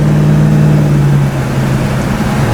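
1965 Ford Mustang with a 289 engine pulling under acceleration, a steady close mid-pitched drone with a tone that shifts partway through, no talk.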